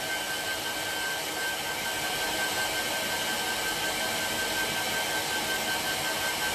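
A hair dryer blows steadily on a freshly painted lid with slow-drying dark green paint, a constant broadband whoosh holding at an even, fairly loud level throughout with no pauses.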